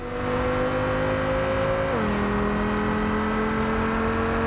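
An Audi TT RS with an inline five-cylinder engine in Test Drive Unlimited holds a steady, loud drone, with the pitch dropping once partway through as if shifting gear, and no talk.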